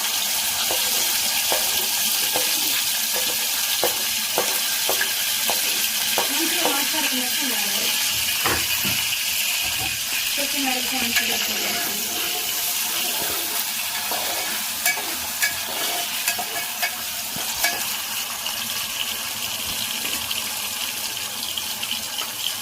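Green chilies and onions frying in a pan for a gourd curry, with a spoon scraping and stirring through a steady sizzle, some clinks and rattles, and faint background noise throughout.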